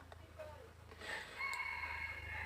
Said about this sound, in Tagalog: Marami silang manok dito,